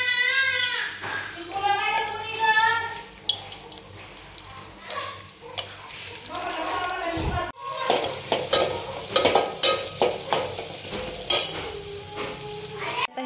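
Cashews frying in about two spoonfuls of hot oil in a pot, the first step of a paneer biryani. A close sizzle with stirring clatter runs throughout, and a voice talks over the first half.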